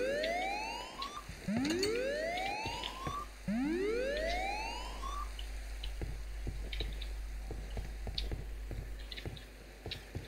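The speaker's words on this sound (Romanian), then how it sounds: "acolo e alarmă" An alarm siren in modded Minecraft, several rising wailing sweeps in quick succession over the first few seconds, followed by sparse dripping and clicking sounds, with no speech.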